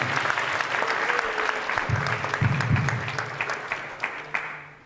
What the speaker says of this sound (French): Applaudissez très fort pour tous les enfants ici.